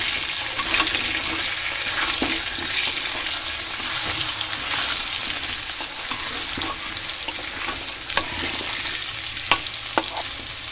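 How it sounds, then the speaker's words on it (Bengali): Potatoes sprinkled with salt and turmeric fry in oil in a wok, a continuous close sizzling hiss with scattered crackles and sharp ticks of stirring throughout. "আলুটা ভেজে নিচ্ছি। এরপর একটু লবণ দিয়ে দেবো সামান্য, আর একটু হলুদ।"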